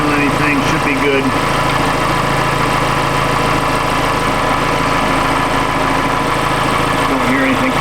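A car engine idles steadily while a belt-driven accessory squeals, a fault that shows up after the car has sat stone cold for hours; the running noise is continuous and close, with a thin high squeal riding on top.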